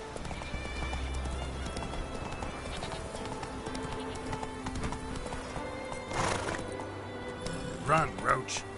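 Hooves of Roach, the horse in The Witcher video game, clip-clop in a steady galloping rhythm, with a whinny and snort near the end; a man urges the horse on over the hoofbeats.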